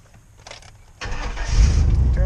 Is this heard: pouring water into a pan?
no